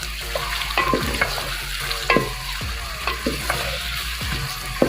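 Chopped garlic, ginger, tomatoes and green chilies fry and get stirred in a pan for chicken tandoori salan, giving a steady close sizzle broken by repeated scraping stirs at a loose, uneven rhythm, with no talk.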